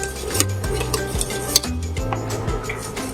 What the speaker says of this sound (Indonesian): Kita bisa matikan apinya dan kita lanjutkan mengaduk.